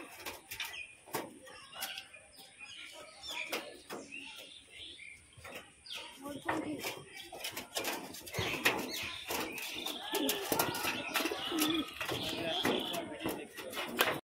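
Pigeons, a pair of Giribaz flying pigeons kept in a home loft, coo steadily at close range among chirps and brief wing flaps, while people talk over them throughout.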